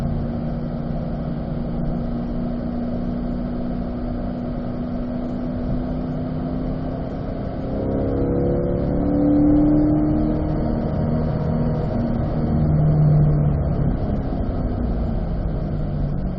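A C8 Corvette engine drones loudly and continuously on a racetrack, its pitch climbing as it accelerates midway, heard from inside the car.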